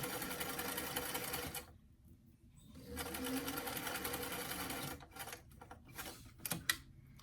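Sewing machine stitching the darts of a small MOD-style BJD doll dress at a 2.5 to 3 stitch length, running in steady bursts with a brief pause, then shorter stop-start runs near the end.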